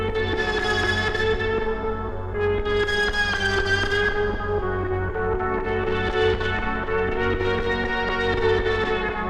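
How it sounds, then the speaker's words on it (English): A distorted Osmose synthesizer drones on with a rapid, stuttering arpeggiated pattern, buzzy and dense, rising and falling in brightness without pause. "the NPR arpeggiator and the distortion break up the sound to make these rhythms."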